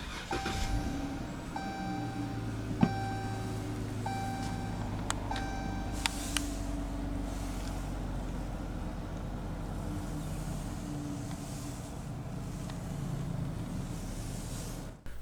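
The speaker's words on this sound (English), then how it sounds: "let's go ahead and start the engine. It does have push-button start." A 2019 Chrysler 300 Touring-L gives a series of electronic chimes as its push-button start is pressed, then the engine settles into a low, steady idle heard from inside the cabin.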